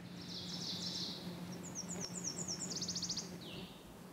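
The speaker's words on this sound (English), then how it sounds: "Nashville warbler singing." A Nashville warbler sings a bright, rapid series of high trills and chirps, moderately close, over a low steady background hum outdoors on a Maine trail, with no talking.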